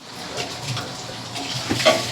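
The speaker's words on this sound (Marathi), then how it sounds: "बघा इकडे भांडी घासायचं पण काम चाललंय माझं" Dishes scrubbed at a home sink under running tap water, with a steady close rush of water and light clatter throughout and no speech.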